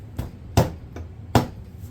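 A hammer taps a staple flush into upholstery fabric on a wooden stool, with four sharp knocks in an uneven rhythm, the second and fourth hits louder, close and without talk.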